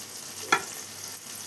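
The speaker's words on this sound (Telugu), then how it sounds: "పొటాటో వేసుకున్నాం, మొత్తాన్ని వేసేసుకొని ఫ్లేమ్ని అయితే హైలోనే ఉంచుకోవాలి." Potatoes fry in a pan over a high flame, a soft continuous sizzle with a brief stirring scrape partway through, close and fairly quiet.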